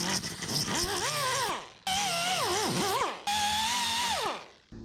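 A pneumatic air tool grinding slag off metal on a 1963 Loadstar hitch and flatbed build, three loud whirring bursts whose pitch rises and dips under load, separated by short pauses.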